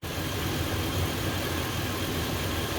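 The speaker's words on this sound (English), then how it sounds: "as you can hear, the engine's running." A second-generation Dodge Ram 1500 engine runs steadily at idle during a plenum gasket leak check, a constant close rumble with no pauses.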